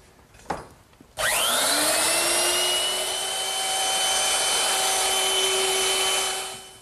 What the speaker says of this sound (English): I'm just going to use my router. And I've set it up with a 1/4-inch bit